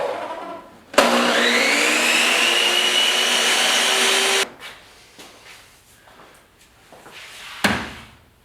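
A table saw cuts wood while trimming windows in a garage, starting abruptly with a loud, steady high whine for several seconds, then stopping, followed by quieter clattering and handling noises nearby.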